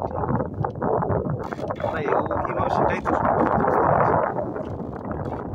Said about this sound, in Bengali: প্রচুর পরিমাণে হাওয়া